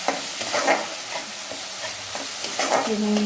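Ground green chili paste frying with spices in a pan for a chickpea, papaya and potato curry, a loud continuous sizzle with repeated spatula stirring strokes, close up and without speech.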